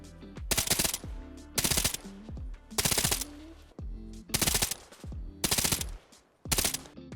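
An SR3M rifle chambered in 9x39 subsonic ammo fires in Arma Reforger: six short, sharp automatic bursts spaced at a fairly even rhythm, loud and close, with quiet gaps between them.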